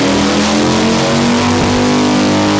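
A Harley-Davidson motorcycle engine revs hard on a dyno test bench, a loud, continuous droning roar with a steady pitch that wavers slightly, close up and without talk.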